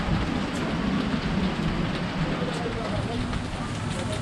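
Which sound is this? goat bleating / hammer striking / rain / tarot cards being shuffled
rain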